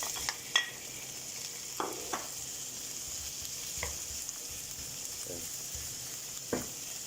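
Sausages sizzling in a single pan of beer sauce over heat turned down to about halfway, a soft steady crackle with occasional brief stirring clatters, fairly quiet and with no talking.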